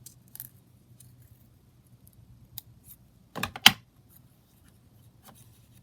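Scissors snip a paper journaling card in a quiet craft room: a few faint scattered cuts, then a sharp, close double snip near the middle, with light rustling afterward.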